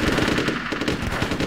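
Sustained machine-gun fire crackles throughout a Vietnam War combat scene in the video game Platoon, dense rapid bursts of automatic gunshots close and loud with no pauses.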